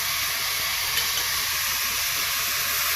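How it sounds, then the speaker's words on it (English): Mutton curry with added stock sizzles steadily in a hot pan, a continuous bright hiss of frying with no talk over it. "you can hear the sizzling sound, huh?"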